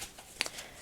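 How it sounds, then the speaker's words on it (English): Tarot cards shuffled by hand, heard as a brief soft riffle with a couple of quick papery snaps, quiet and close. "Shuffle 2 more times and then pull, split and pull."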